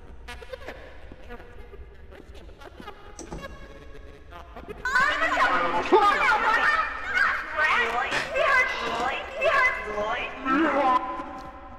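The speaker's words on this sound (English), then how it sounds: "Just a bird." A bird honks repeatedly in the horror game Indigo Park, with loud goose-like calls bursting in about halfway through and continuing in uneven clusters over game music and ambience, while people talk.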